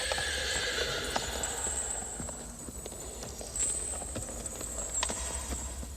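An Arabian horse's hooves clip-clop in a steady walking rhythm, sharp distinct strikes at moderate distance over a low ambient background, continuing throughout.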